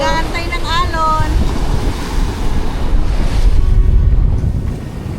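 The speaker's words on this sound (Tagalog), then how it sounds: "Nag-aantay ng alon." Ocean surf rolling onto a beach where surfers wait for waves, a steady broad wash with wind buffeting the microphone and a brief voice early on.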